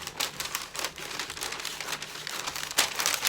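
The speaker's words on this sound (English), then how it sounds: "So let's go ahead and use scissors." Scissors snip through gift wrapping paper in a series of quick, irregular crisp cuts mixed with papery crinkling, close and fairly quiet.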